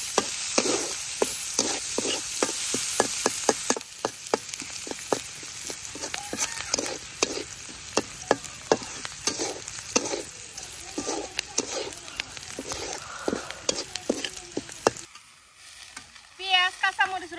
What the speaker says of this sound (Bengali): আস্ত জিরে, পেঁয়াজ, কাঁচামরিচ, রসুন, সবকিছু ভালোভাবে ভেজে নেই।